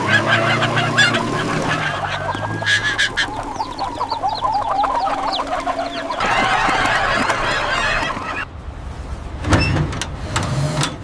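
Chickens squawk and cluck in a busy, clamorous mix, with bursts of louder calls among steady background noise and a sharp cry near the end.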